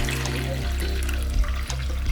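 Tap water runs into a container for watering plants, a continuous close splashing rush with a slight shift in pitch as the level rises.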